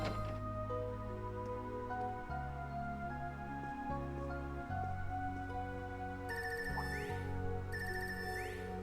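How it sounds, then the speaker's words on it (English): A phone ringtone in a video game: a melodic electronic tune of stepped synth notes in a repeating pattern, with shimmering chime flourishes near the end, steady and fairly quiet, no talking. "That's ringtone."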